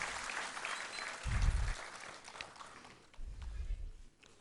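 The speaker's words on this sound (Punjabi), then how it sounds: "ਤਾੜੀਆਂ ਨਾਲ ਜ਼ੋਰਦਾਰ ਸਵਾਗਤ ਜਨਾਬ ਸ਼ਕੀਲ ਅਹਿਮਦ ਸਾਹਿਬ ਦਾ" Applause from an audience at an all-India mushaira poetry gathering in Patiala, Punjab, welcoming a guest. It comes in two louder bursts with a fainter crowd wash between them.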